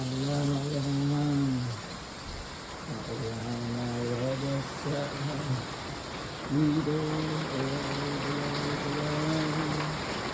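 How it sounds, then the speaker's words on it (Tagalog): Steady rain hisses in the background while a person speaks in drawn-out, sing-song phrases over it. "At dahil na ulan sa labas."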